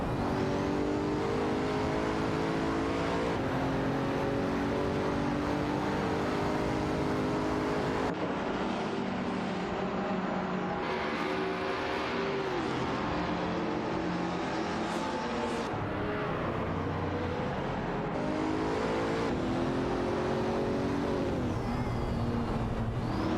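W Motors Lycan Hypersport and Aston Martin race cars in a video game race, sustained loud engine roar with rising and falling revs through gear shifts, continuous throughout.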